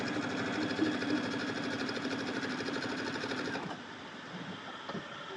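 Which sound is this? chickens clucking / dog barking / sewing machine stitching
sewing machine stitching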